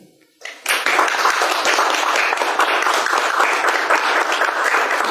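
Audience applause at a talk on ceramics bursts in abruptly and holds dense and even for several seconds, a steady wash of many hands clapping with no voices over it.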